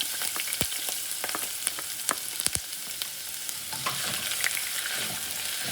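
Sliced ginger and garlic sauté for an egg roast, a continuous close sizzle broken by repeated sharp clicks and scrapes of a spatula against the pan, with no voices.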